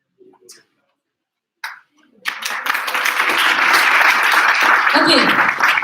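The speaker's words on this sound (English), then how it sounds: "big round of applause for Sandra" Audience applause at an English public speaking competition announcing third place, starting after a couple of brief sounds and then swelling into steady, dense clapping from a large crowd that holds loud to the end.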